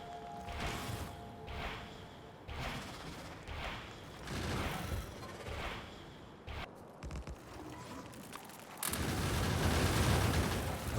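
Gunfire in the video game Factorio, heard as repeated bursts of rapid shots under a steady mechanical game background, turning into a louder, denser rumble of shooting near the end.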